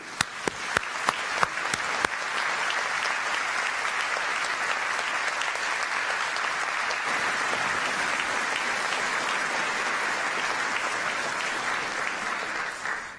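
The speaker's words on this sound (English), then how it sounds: "let's all give them a great clap" Sustained applause from a graduation audience at Lancaster University, opening with a few sharp individual claps that swell into dense, even clapping filling the hall, steady and loud throughout with no talk.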